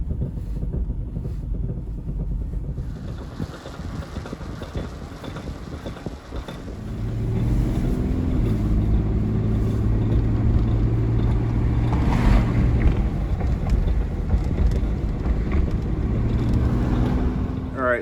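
A 1999 Infiniti QX4 with torn front CV axle boots drives along, its low engine and drivetrain drone steady under rushing wind and road roar, with a heavier rumbling hum building about halfway through.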